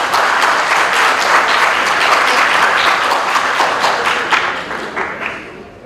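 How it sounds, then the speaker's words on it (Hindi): Loud audience applause welcomes a one-man stage play, many hands clapping in a thick, continuous wash that thins and fades out toward the end. "जोरदार तालियों से अभिनंदन"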